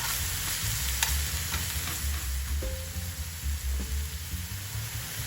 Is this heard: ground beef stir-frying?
yes